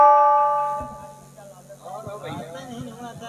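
A bell rings with a sustained metallic tone at the start of a staged nautanki folk-theatre performance, fading out before people begin talking loudly over it.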